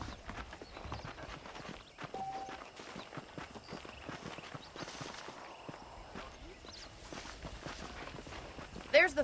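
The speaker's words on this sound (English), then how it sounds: "The horses are saddled up over here." Horse hooves clip-clopping at a steady walking pace in the Red Dead Redemption video game, moderately loud, with someone talking over them throughout.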